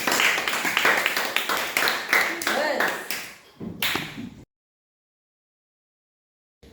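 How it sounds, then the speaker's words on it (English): Participants in an online class session clap for themselves, a few people's hands tapping in uneven bursts, close and fairly loud, before the sound cuts off into silence. "Give yourself a round of applause."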